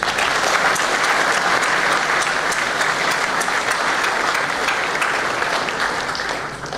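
Sustained loud applause from a large conference audience for the sponsors, steady clapping throughout that begins to fade toward the end.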